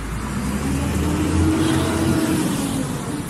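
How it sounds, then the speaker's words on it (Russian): A city bus pulls away along a street in Lloret de Mar, its engine rumble swelling then fading into steady traffic noise, moderately loud with no talk. "Автобус уехал."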